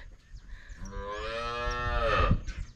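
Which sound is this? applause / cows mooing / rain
cows mooing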